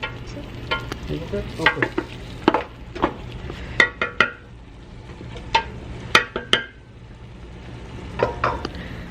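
Chicken frying on a hot plate is stirred, with a steady low sizzle under a series of sharp scraping and clinking strokes of the utensil at an irregular rhythm, close and fairly quiet, and one brief spoken word.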